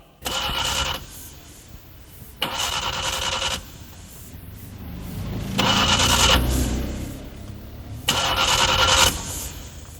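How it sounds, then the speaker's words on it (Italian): Car engine cranking repeatedly without catching, several loud bursts of starter whirring separated by pauses, close by, in a scene about a transit strike. "Che sta macchina non parte."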